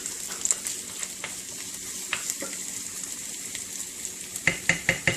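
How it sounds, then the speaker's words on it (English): Garlic and ginger sizzle steadily in a pan while biryani is prepared, with soft scrapes and a few sharper clinks of stirring toward the end. "We're going to go ahead and we're going to add the garlic. We're going to also add the ginger. We're going to mix it."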